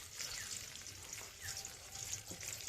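Eggs frying in a kadai with salt, chili powder and turmeric, scrambled into crumbly pieces for street-style chowmein; a steady soft sizzle with faint scraping of stirring runs throughout.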